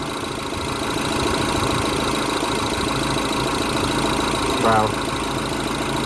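A freshly rebuilt Mini Cooper S R56 with its N14 engine runs at a steady idle, a constant mechanical hum with slight knocking texture, while a voice briefly exclaims near the end.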